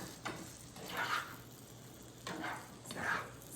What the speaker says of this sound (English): Stir all of this until it's combined.